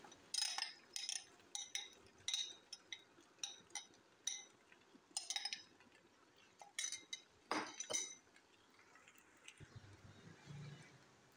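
A utensil clinks and scrapes against a pan while spices are stirred into macaroni, giving a series of light, quiet taps and clinks in an irregular rhythm, followed by a brief soft sizzle near the end.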